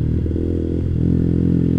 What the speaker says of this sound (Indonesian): nah, itu adalah engine brake dari mesin kalian